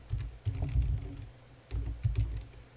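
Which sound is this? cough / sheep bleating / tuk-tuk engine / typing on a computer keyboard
typing on a computer keyboard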